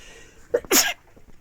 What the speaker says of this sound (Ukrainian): Оце пчихнула.